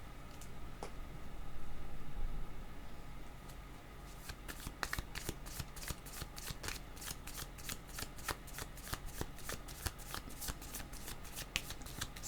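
Tarot cards shuffled by hand, a rapid run of crisp riffling clicks starting a few seconds in after a quiet stretch, close and steady with no talk.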